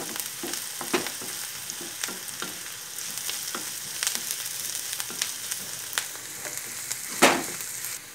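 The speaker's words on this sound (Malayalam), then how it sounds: "ഇനി ഒന്ന് ഇളക്കി കൊടുക്കുക." Chili powder being stirred into potato masala in a frying pan: a steady close-up sizzle and crackle, with repeated scraping strokes of a spoon and one louder scrape near the end. No one speaks.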